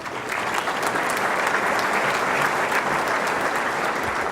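Dense, sustained applause from a banquet audience at a scholarship event fills the room with loud, even clapping that never lets up.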